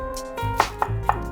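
A knife slices a yellow onion thinly on a cutting board, giving four crisp, evenly spaced chops close up against a low background hum, with no talking.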